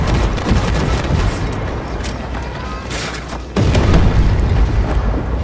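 A Leopard 2A7-140 tank's cannon fires in a video game, a loud, heavy boom over a dense, rumbling battle din that swells sharply partway through.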